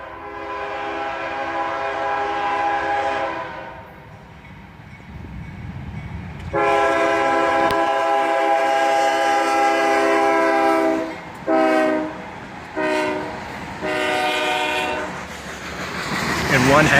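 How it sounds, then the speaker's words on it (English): Loud multi-chime air horns from a train led by a pair of ES40DC locomotives and a Dash 8 in old paint, a long blast followed by several shorter sounding blasts over the rumble of the passing train. "one heck of a horn show on this train, with a pair of ES40 DCs and a Dash 8 in the old YN2 paint scheme."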